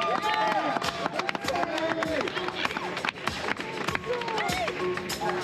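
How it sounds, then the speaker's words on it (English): An audience claps for a finisher at a latte art competition, a busy patter of many hands under a loud announcer's voice that carries over the clapping throughout. "Come on, guys, huge round of applause."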